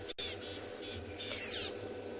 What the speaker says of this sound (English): You can still hear the owlet squawking in the background.